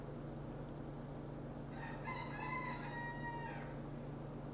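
A rooster crows once in the middle, a clear, moderately distant cock-a-doodle-doo over a steady low background hum.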